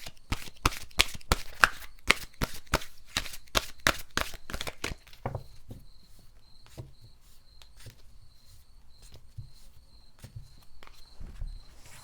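Tarot cards are shuffled in a rapid run of crisp riffling clicks for about five seconds, then a few softer taps and slides as cards are drawn and set down, close and moderately loud with no voices.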